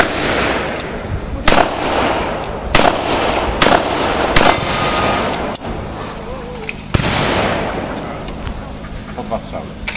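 Fireworks at a fireworks festival fire repeated sharp loud bangs at irregular intervals over a continuous crowd and outdoor noise, with voices talking nearby.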